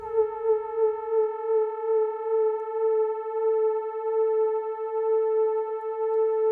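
A synthesizer tone with extra voices holds a steady sustained note whose waveforms drift in and out of phase, producing a gentle, even pulsating wobble that continues alone without speech.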